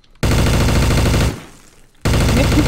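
Rapid automatic gunfire from a Garry's Mod match, loud and sustained bursts of dense shots with a brief drop-off in the middle before firing resumes just as hard.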